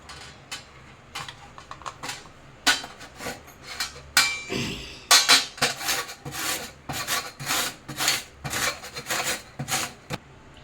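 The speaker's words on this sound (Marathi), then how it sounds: "आता आपण किसणीने असे लांब लांब कापून घ्यायचे आहे" Peeled raw mango is grated into long shreds with a hand grater, giving repeated rasping strokes in an uneven rhythm with occasional knocks, close and fairly clear.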